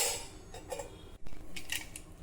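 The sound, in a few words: lid placed on the pot of lentils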